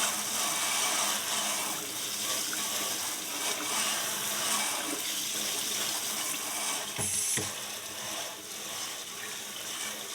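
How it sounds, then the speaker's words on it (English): Water from a tap pours steadily over a restored pony-size front horseshoe during a final rinse, a continuous splashing hiss with a short interruption near the end, close and without talk. "So, we'll give it one final rinse."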